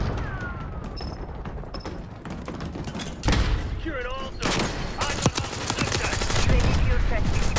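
Gunfire in a chaotic video game firefight, with bursts of rapid shots and sharp blasts, a heavy thump around the middle and dense overlapping shooting toward the end, close and loud with scattered game effects.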